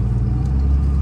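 A SEMA show truck engine rumbles steadily at low pitch, idling and pulling away in first gear, close and loud throughout.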